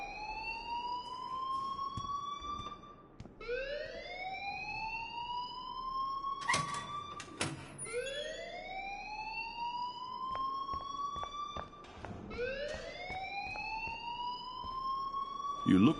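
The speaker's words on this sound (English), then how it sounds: "please turn off that alarm since that's your job" An alarm in the video game Life is Strange wails in repeated rising siren sweeps, each climbing then holding, with sharp clicks between cycles and faint talk beneath.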